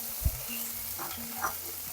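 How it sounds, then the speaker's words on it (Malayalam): Small sambar onions (shallots) fry in oil for a peas and fish curry, a steady close sizzle with a couple of brief stirring bumps. "ഈ എണ്ണയിലോട്ട് ഒരു 10-20-25 ചെറിയ ഉള്ളി, സാമ്പാർ ഉള്ളി, അതിൻ്റെ ഉള്ളി ഇട്ട് കൊടുക്കാം"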